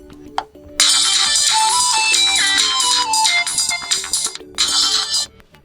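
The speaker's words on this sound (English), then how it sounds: "now choose the sound that you would like to apply as your ringtone" A ringtone plays from a MEDIATEK KT107 phone: a bright electronic melody, loud and close, sounding in bursts with short gaps between them.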